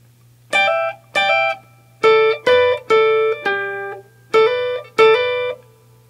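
Electric guitar plays a solo, a run of eight bright, sustained note clusters and double stops in a clear, loping rhythm, heard alone and close over a faint steady hum.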